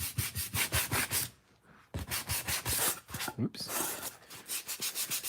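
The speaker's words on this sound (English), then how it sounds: "Use my sandpaper." Sandpaper scrubbing wood for a Star Wars themed action figure diorama, quick repeated back-and-forth strokes close up, loud and rhythmic, with two brief pauses and a single short spoken word.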